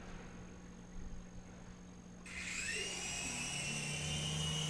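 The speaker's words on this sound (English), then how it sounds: "there's a little airplane" A small airplane flies overhead, its droning engine whine swelling in abruptly after a quiet opening and holding steady and fairly loud to the end.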